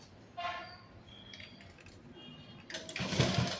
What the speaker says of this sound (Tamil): இப்போ ஒரு 1/2 இன்ச்சுக்கு நான் வந்து இங்கே தையல் போட போகிறேன்